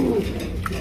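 A racer pigeon gives a brief, soft low coo at close range, with faint background rustle and no talk.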